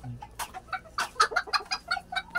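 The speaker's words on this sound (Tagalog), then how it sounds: "Kain po tayo ng ating mga alagang bantam chicken." Pet bantam chickens cluck busily at morning feeding time, a quick run of close, overlapping clucks and soft chatter with no talking.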